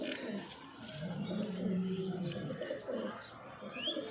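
Pigeons cooing nearby, low soft rolling coos repeating over a quiet background with a few faint chirps, gentle and steady.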